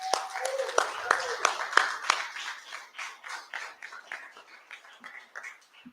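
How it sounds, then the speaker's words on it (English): Scattered hand claps from a small gathering at a housing community meeting, uneven and sparse rather than a full ovation, with a voice briefly heard toward the end. "could we all just give ourselves a round of applause for coming here?"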